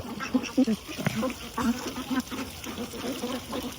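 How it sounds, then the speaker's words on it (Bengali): Ducks in their enclosure give a short burst of scattered quacks up close, several birds calling over a soft watery trickle. "একসাথে এতগুলো হাঁস যখন একসাথে ঢুকে বের হয়"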